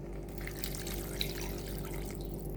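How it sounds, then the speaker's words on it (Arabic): Cups of water pour into a cooking pot of carrots, potatoes and curry paste, giving a steady close splashing gush with no talk. "بعد كده هحط 4 اكواب من الميه."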